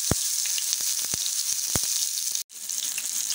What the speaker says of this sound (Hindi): इन टमाटरों को हमने रोस्ट करना है।